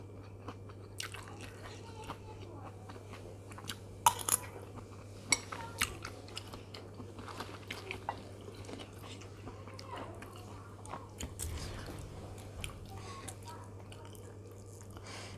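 Someone chews and eats konjac egg curry up close, with soft, wet munching and a few sharper crunchy bites spread unevenly over about fifteen seconds.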